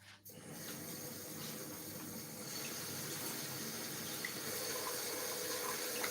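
Tap water runs steadily into a kitchen sink while fresh basil is rinsed for a pizza margherita, a continuous close splashing stream that swells slightly louder after the first couple of seconds, with no talking.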